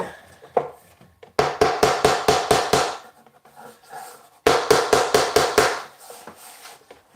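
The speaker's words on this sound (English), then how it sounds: "Here's the hammer." Hammer blows striking wood while a wooden tote is assembled in a workshop: two loud bursts of about six rapid, evenly spaced strikes each, separated by a pause with faint handling noise.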